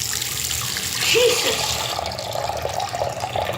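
Water runs steadily from a tap to fill a container, a continuous broadband rush that swells briefly in the middle, with a voice speaking over it.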